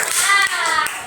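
Children clap their hands in a classroom, a quick burst of loud, close, overlapping claps with a few brief pauses.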